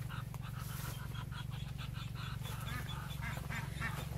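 Homestead geese and ducks honk and quack repeatedly at a moderate distance over a constant low background hum, and the calls overlap in a busy, uneven chorus.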